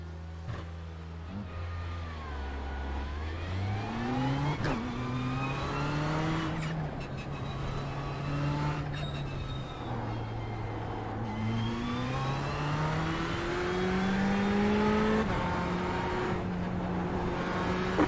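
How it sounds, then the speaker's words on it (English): Race cars lap the Daytona track during practice for the 24-hour race, a continuous loud engine drone that rises and falls through gear changes, with other cars passing close by. "A lot of cars on track"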